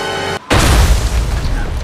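A Diwali firecracker bursts with a single loud, close boom after a brief steady tone, followed by a rumbling, crackling tail.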